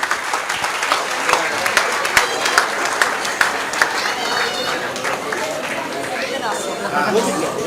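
An audience at a Mahesh Navmi Utsav 2022 celebration claps in sustained applause, a dense crackling roar with chatter mixed in.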